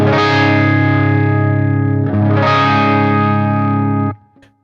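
An electric guitar on the bridge pickup with the full humbucker engaged plays two loud, distorted strummed chords, each left to ring out, before the sound is cut off near the end.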